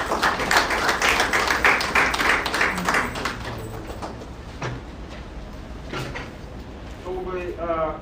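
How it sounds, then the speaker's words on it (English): A crowd applauds with dense, steady clapping that gradually thins out, followed by a faint voice near the end. "Please let's give her a round of applause."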